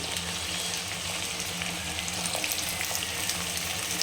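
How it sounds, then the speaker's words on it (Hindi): Potatoes and boro beans fry together in a pan of oil, a continuous, even sizzle heard up close at steady volume with faint stirring underneath. "दोनों को साथ में मिला करके हम फ्राई करेंगे।"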